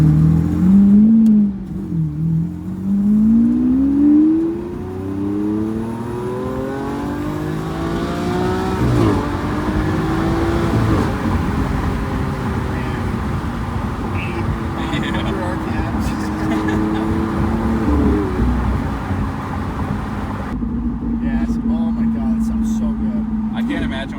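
An Audi engine rises and falls through the gears as the car accelerates on the road, a loud, close, steady drone with climbing pitch sweeps, and people talk over it much of the time.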